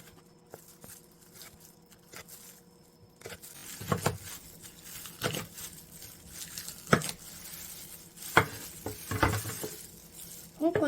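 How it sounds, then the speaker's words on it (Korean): A kitchen knife slices red chili pepper into thin strips, producing a series of soft, irregular chopping taps on a board, spaced a second or so apart and growing busier toward the end over a quiet room. "홍고추 채 썰어줍니다."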